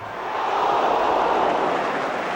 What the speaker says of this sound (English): Well might the crowd ooh.